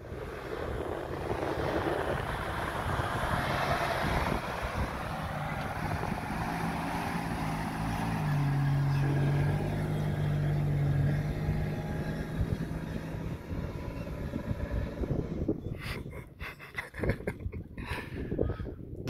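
An off-road car's engine revs continuously during desert recovery and tire deflation training at Al Qudra, Dubai, a loud, sustained rumbling drone that swells and roars before turning rougher and choppier toward the end.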